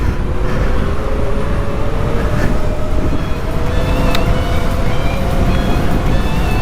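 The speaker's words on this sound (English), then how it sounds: "So right now I'm gonna go to assist level 5 and we're gonna full throttle it." A custom Super 73 ZX electric bike surges at full throttle in assist level 5, its rising motor whine and rushing road and wind noise loud and steady throughout.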